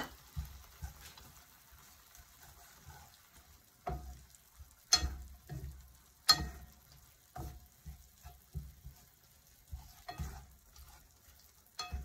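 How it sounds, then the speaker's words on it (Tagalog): Minced beef with string beans, onion, garlic and tomato stir-fries quietly in a pan, with soft intermittent scrapes and clinks of the spatula over a faint sizzle. "Minced beef. Halo-haloin lang natin."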